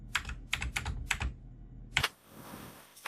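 A password is typed on a computer keyboard in a few quick bursts of close, crisp key clicks, then a sharp final keystroke and soft hiss.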